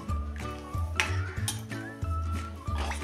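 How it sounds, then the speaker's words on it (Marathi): A spoon scrapes and clinks against a metal pot while dal-methi amti is stirred, giving repeated rhythmic knocks and clatters over a steady background hum, close by with no talking. "आता ही चांगली एकसारखी अशी मिक्स करून घेऊया"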